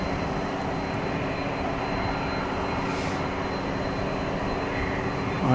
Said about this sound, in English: I hear the whine of another 767